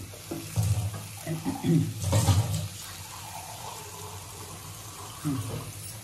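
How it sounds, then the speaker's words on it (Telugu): A little water pours from a vessel onto fish fry masala in a pan, a few short splashing gushes at close range, followed by a quieter stretch and one more brief pour. "కొంచెం నీళ్ళు పోసేసి"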